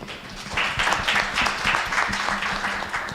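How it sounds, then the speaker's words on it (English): Audience applause at a research organisation's anniversary gala, a steady wash of many hands clapping together at moderate loudness, sustained throughout without speech. "a hand of applause to Lilian"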